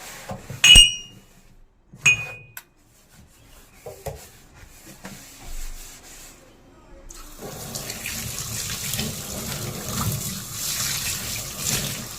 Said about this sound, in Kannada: ಸೊ ಫಸ್ಟ್ ಅದನ್ನೆಲ್ಲ ವಾಶ್ ಮಾಡ್ಕೊಂಡು ಬಿಡ್ತೀನಿ